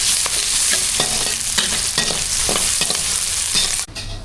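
A couple of curry leaves sizzle in hot oil with onion and capsicum for mushroom Manchurian, a loud continuous crackle broken by soft stirring scrapes, before the sizzle cuts off sharply near the end.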